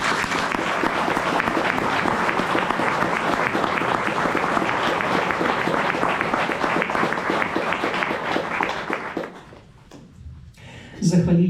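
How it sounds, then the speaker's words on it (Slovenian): Sustained applause from a large crowd at a hunters' choir concert, dense and steady for several seconds before fading, then a voice begins speaking. "En krepek aplavz"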